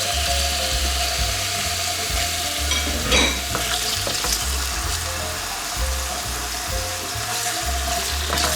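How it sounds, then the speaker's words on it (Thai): Pieces of cut sea bass sizzle and fry in a pan for an easy pasta dish, a steady close crackle with a few stirring scrapes and a brief louder burst near the middle. "เนื้อปลากระพงที่หั่นไว้แล้วเนาะ ใส่ลงไปเลย"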